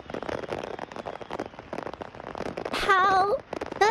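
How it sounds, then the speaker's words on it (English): Fireworks going off after a truck loaded with them crashed on a highway: a dense run of crackling pops and bangs, with whistling rockets rising near the end. "A truck full of fireworks crashed on the highway,"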